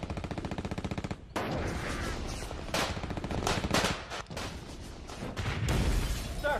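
Intense WWII battle gunfire as German artillery breaks through front lines in the 1944 Ardennes: rapid machine-gun bursts at first, then dense overlapping shots and blasts in continuous loud volleys, no talk.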